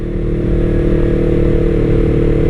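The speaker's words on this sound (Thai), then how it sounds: "เนี่ยเวลาเราบิดเบาๆเงี้ยเออ มันแบบสบายหูดีมันไม่ได้ดังมากนะ" Yamaha R3 motorcycle exhaust at light throttle, a smooth, soft, steady low engine drone close by, fairly loud and even, with no speech.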